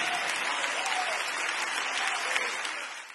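A church congregation claps loudly and steadily in praise of God, a dense wash of many hands held at an even level for about three seconds before cutting off.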